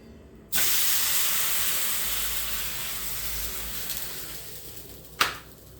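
A thalipeeth, a potato flatbread patted out on a clean white cloth, drops onto an oiled griddle and bursts into a loud, steady hiss and sizzle that slowly fades, ending in a sharp spitting crackle.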